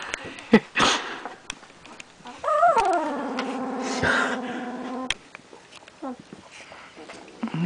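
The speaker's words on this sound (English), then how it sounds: "He's growling." A small puppy whines and gives a low, drawn-out growl near the middle, with sniffing and rustling around it and a person talking.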